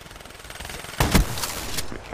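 A few sharp gunshots crack from Black Ops 3 play, a pair close together and then two more spaced out over a low hum of game ambience.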